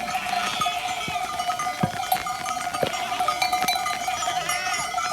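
Sheep and a ram on a farm, with repeated bleats over a busy, continuous background of animal movement, clanking bells and scattered knocks, close and fairly loud.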